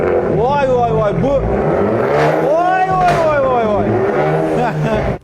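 A car engine revs hard several times close by, its pitch sweeping up and falling back in repeated loud surges with a roaring growl.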